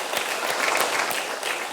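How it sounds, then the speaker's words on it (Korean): A church congregation applauds its teachers during a Sunday worship service, a dense, steady wash of clapping from the crowd that carries through the whole moment. "우리 교사들 너무너무 수고 많으셨어요. 박수 한번 해요."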